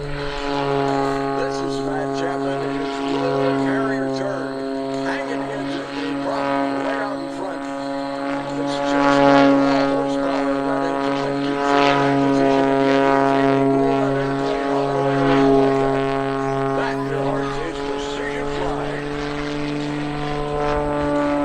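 A Cap 580 aerobatic propeller airplane drones overhead at an airshow, a loud sustained buzzing engine note that swells and fades slightly as it flies, with no talk over it.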